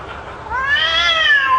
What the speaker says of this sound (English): I have an endless loop here of a cat in heat.